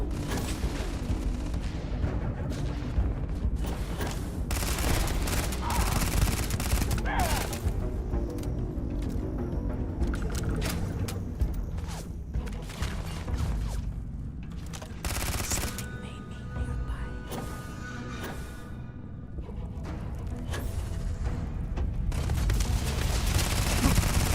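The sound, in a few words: gunfire from enemies in the video game Starfield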